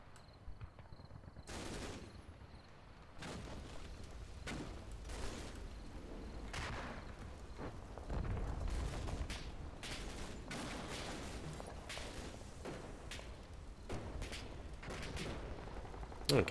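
Artillery fire mission in the wargame Combat Mission Black Sea: a rapid, irregular series of loud, booming blasts and gunfire-like cracks that keeps going over the whole stretch, layered over a constant low rumble.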